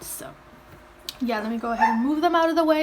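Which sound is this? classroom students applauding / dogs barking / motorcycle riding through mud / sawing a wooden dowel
dogs barking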